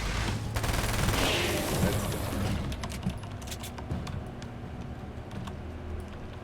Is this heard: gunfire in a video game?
yes